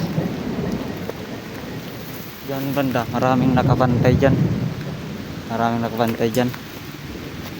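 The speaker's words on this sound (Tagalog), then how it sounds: "Kasi umuulan na." Steady rain patters close by while low thunder rolls underneath, and someone speaks briefly over the storm.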